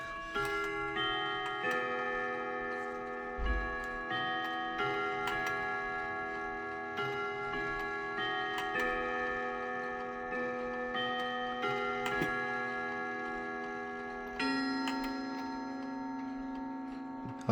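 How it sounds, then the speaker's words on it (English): A Sessions WC94 mantle clock chimes a ringing melody of several struck, sustained bell tones before striking one o'clock, clear and close against a quiet room with a faint tick underneath. "I'll just go ahead and chime it for you."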